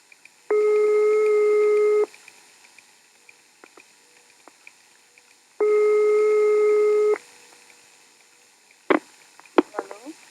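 Two long, steady electronic telephone line tones on a 1980s French radio call-in broadcast, each lasting about a second and a half, separated by near silence, followed by faint clicks and rustle.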